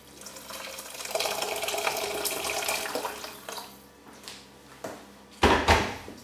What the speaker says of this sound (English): And I'm going to add some water to this.